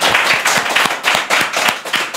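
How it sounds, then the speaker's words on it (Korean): An indoor audience gives brisk rhythmic clapping that carries through the whole stretch, with no voices over it. "여러분 박수 한번 주십시오"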